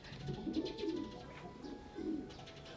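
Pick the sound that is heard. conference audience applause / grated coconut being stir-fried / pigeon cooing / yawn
pigeon cooing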